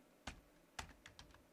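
A few quiet keystrokes on a computer keyboard: two isolated taps, then a quick cluster of three or four, all faint and close.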